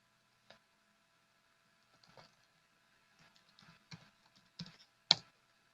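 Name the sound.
typing a Linux command on a computer keyboard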